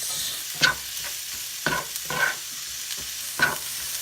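Onions and garlic fry in a pan with a steady low sizzle, broken by a few distinct scraping stirs of a utensil, close up and with no talking.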